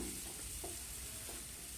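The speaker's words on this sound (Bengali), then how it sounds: "আমি রসুন কুচি আর একটু পেঁয়াজ কুচো দিয়ে দিলাম" Chopped garlic and onion fry in oil with a steady close sizzle, broken by a couple of short stirring scrapes, as greens are cooked in a home kitchen.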